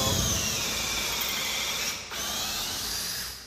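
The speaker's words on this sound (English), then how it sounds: "Got my countersink with my drill bit." A power drill with a countersink bit whines steadily while boring into oak for a stair post, pausing briefly and then running again before winding down.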